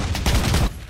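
Rapid burst of gunfire from the Blood Strike shooter game, a dense, loud volley of shots rattling continuously for under a second before cutting off.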